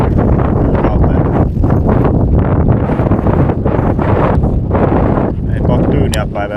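Strong wind buffets the microphone while perch fishing from a boat in shallow water on Vesijärvi lake, a loud, roaring gusty rush throughout with a person speaking under it.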